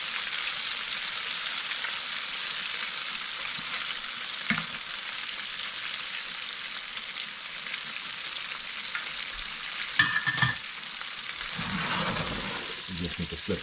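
Southern fried chicken pieces sizzle steadily in hot oil, a continuous bright crackle throughout, with a few brief clunks and handling noises toward the end as pieces are turned.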